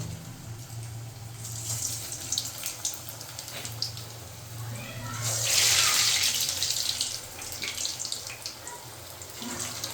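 Egg pieces deep-fry in hot oil like bajji, giving a continuous loud sizzling hiss that swells to a louder burst midway and then settles back.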